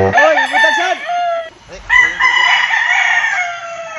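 Loud, close rooster crowing, one long crow and then another, with clucking in between.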